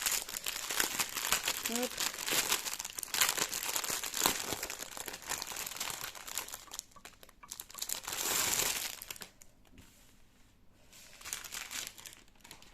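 Plastic sachets of diamond painting drills crinkle and crackle as they are opened and handled, a steady close rustling that dies down near the end, with someone talking throughout.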